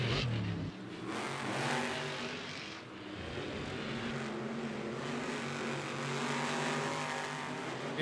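Monster trucks racing at Monster Jam in Rice-Eccles Stadium, Salt Lake City, a loud sustained engine roar filling the arena with shifting revs, close and powerful throughout.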